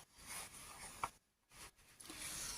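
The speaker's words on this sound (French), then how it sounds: "Je vais découper lui, le joli papillon ici." Scissors cut out a pretty paper butterfly for a box card, giving a steady close rasping slice that pauses briefly and then resumes.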